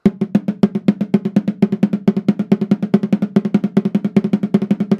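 A double-stroke drum roll of rapid, slightly uneven bouncing strokes, loose and floppy in rhythm, played close and alone for several seconds.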